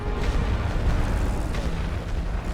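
A bomb going off in the World War I strategy game Great War Western Front, heard as a dense, rumbling low-end roar that holds steady for the whole stretch with faint battlefield crackle on top.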